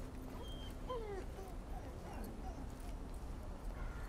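A dog whimpering with short yips in a zombie apocalypse film scene, thin high whines over a dense rumbling background, moderately faint.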